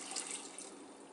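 Water pours into a pot for boiling butternut squash, a brief, soft, continuous splashing stream with no voices.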